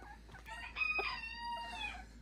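A rooster crows inside a chicken coop, one clear, moderately close cock-a-doodle-doo lasting about two seconds against a quiet background.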